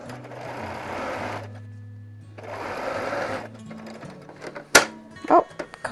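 A home sewing machine runs at about a 2.5 to 3 stitch length with a quarter-inch foot, sewing fabric selvages down for a quilted wall hanging. It whirs in two steady close runs, then gives a few sharp clicks and clunks as it stops.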